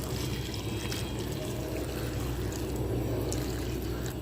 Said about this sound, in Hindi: करीब 2 लीटर पानी,